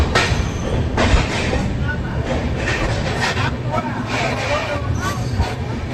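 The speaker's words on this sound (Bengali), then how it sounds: "আর চলো এখন আমাদের ট্রেনটা এখন টানছে" A passenger train pulling out of Khurda Road Junction in Odisha, heard from inside as a steady rumble with rattling wagons and background chatter, while a person talks over it.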